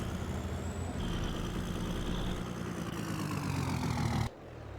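Truck engine idling and running in Farming Simulator 22: a constant low, rumbling drone with a faint whine above it, steady for about four seconds before dropping away sharply.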